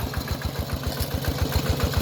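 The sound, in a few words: walk-behind two-wheel tractor engine running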